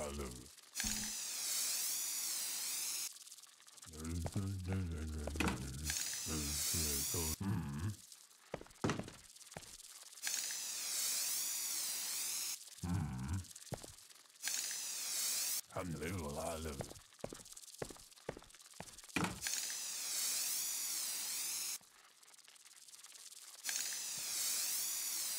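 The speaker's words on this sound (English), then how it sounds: "literally just spray in there like a couple times" Spray bursts hissing in repeated bursts of several seconds each, separated by short gaps with thuds and clatter, close and fairly loud.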